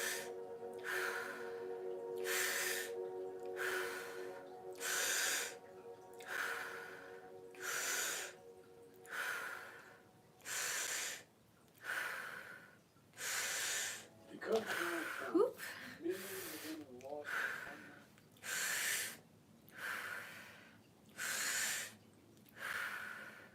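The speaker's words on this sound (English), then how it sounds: "We'll do round 2 of that fast breathing" Rapid rhythmic breathing during a guided breathwork session, about a dozen forceful breaths at an even pace, each sharp and airy, close to the microphone with a brief soft vocal sound midway.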